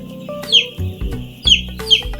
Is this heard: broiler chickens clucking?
yes